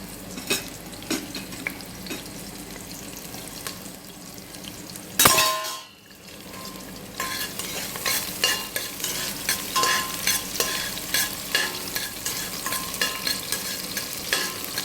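Sliced onions hit hot oil with whole spices in a pan for fish biryani, setting off a sudden loud sizzle burst, followed by steady frying with repeated rhythmic scraping and clanking of a spatula against the pan, with no talking.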